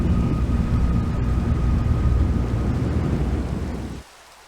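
A heavy storm in Minecraft roars with dense rain and low rumbling thunder, loud and continuous before cutting off abruptly near the end into near quiet.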